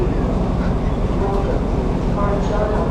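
An old train standing at a station in Kanchanaburi, Thailand, with passengers getting off a third-class carriage; a steady, loud low rumble of idling engine and carriage noise fills the scene without break, with faint crowd murmur underneath.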